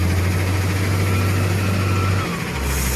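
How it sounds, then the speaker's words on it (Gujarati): A tractor engine idles steadily with a deep, constant rumble and vibration, close and loud, shifting slightly near the end while the trailer is loaded. "આપણું ટ્રેક્ટર ભરવાનું ચાલુ કરી દીધું છે"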